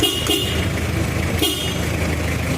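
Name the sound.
old car horn honking loudly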